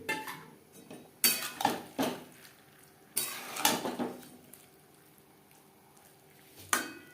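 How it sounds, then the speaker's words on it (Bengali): Potatoes being stirred into cabbage and flat beans in a pan: several clattering scrapes and knocks of a spoon against metal come in uneven bursts, close by and alone, separated by quieter stretches. "বাঁধাকপি ও শিমের সাথে আলু বেশ ভালো করে মিক্সড করে দেব।"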